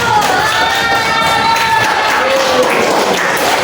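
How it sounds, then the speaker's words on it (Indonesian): A classroom audience claps and cheers for group one, a loud mix of crowd noise, clapping and excited voices with some shouting woven through. "Kita berikan tepuk tangan untuk kelompok satu"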